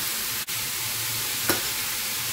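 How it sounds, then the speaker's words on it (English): Ground chuck frying in a pan for spaghetti: a steady, close sizzle with a constant hiss that carries on throughout, plus a single brief knock partway through. "We're just going to fry it up and get some good char on that ground chuck"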